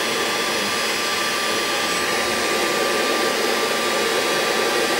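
A heat gun blows on the rim of a glazed porcelain bath basin, giving a loud, steady, close-up hiss of rushing air that holds evenly throughout with no voices.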